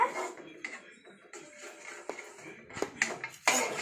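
Spaghetti pasta being stirred in a cooking pot, with irregular clanks and scrapes of a utensil against the metal, close by and uneven, with no voice over it.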